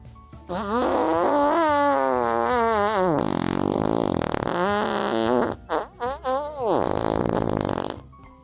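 A long, loud fart sound that wobbles and slides in pitch, breaking into several short sputtering bursts before one final drawn-out blast.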